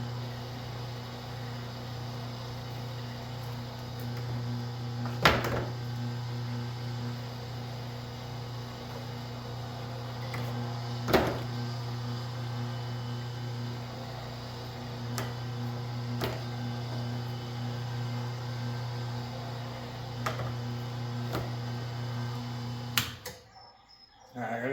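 A copper wire stripping machine runs steadily on number 6 scrap wire, a constant low mechanical hum with occasional sharp clicks and knocks every few seconds, then cuts out abruptly near the end.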